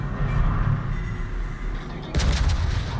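Secondary battery guns of the warship Azuma in World of Warships, a rumbling barrage of shell fire with a sharp loud burst of impacts near the end.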